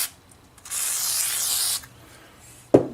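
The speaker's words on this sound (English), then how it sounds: "I'm going to give them a little bit on this 1500 grit with some WD." WD-40 sprayed from an aerosol can onto 1500 grit sandpaper for smoothing lawn tractor parts: one steady hiss about a second long, close and fairly loud, followed by a sharp knock.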